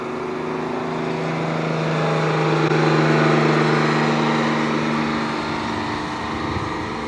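Diesel engine of a guided bus in Belgium running steadily, a loud continuous low hum with a tonal drone that swells slightly midway, heard alone without talk.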